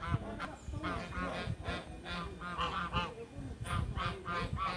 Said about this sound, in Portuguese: Um bando de ganso.